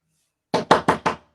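Four firm knocks on a door in a staged theatre performance, evenly spaced and loud, ringing out after near silence.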